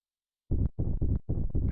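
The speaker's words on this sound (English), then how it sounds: "That heartbeat sound effect." Heartbeat sound effect from the video game Xenogears: four to five heavy, muffled low thumps in a slow, steady rhythm, loud and close, starting after a brief silence with nothing else heard.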